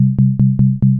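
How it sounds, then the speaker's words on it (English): Repeating synthesized drum hits from an iPad drum synth's oscillators alone, sampler off, five evenly spaced pulses over a steady low droning tone, loud and close with no voices. "that's the sound of just the oscillators"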